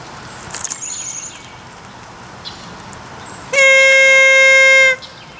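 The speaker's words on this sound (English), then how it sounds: "Wait, my Sly's air horn." A handheld air horn gives one loud, sustained blast of about a second and a half, standing out clearly against faint background noise after a few quiet knocks.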